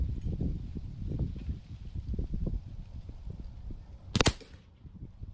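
A Crosman 160 .22 caliber air rifle fires once, a single sharp near crack standing out after a stretch of low rustling, thumping handling noise.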